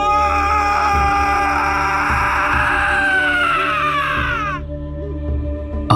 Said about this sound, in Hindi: अचानक किसी की जोरों से चिल्लाने की आवाज आई।